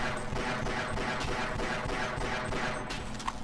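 Gunfire from the pistol in the video game Half-Life, a steady run of repeated shots at an even rhythm, loud and continuous, with a few sharper impacts near the end.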